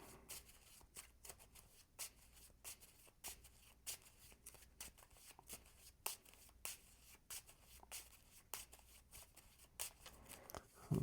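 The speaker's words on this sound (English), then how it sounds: "so we will shuffle" Cards from the Nemesis Retaliation board game, made by Awaken Realms, are shuffled during a solo tabletop session, giving soft, quiet riffling and flicking bursts that repeat in a loose rhythm for about eleven seconds.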